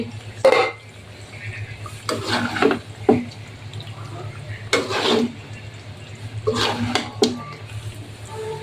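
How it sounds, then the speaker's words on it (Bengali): Chicken curry is stirred in a pot with a spoon, producing several separate bursts of scraping and clattering against the metal, spaced a second or two apart over a low background hum. "আমি আর একবার নেড়ে দিচ্ছি"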